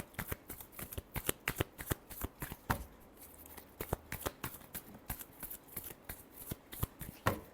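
Tarot cards being shuffled by hand, a rapid series of crisp riffling snaps and flicks in an irregular rhythm, close and fairly quiet.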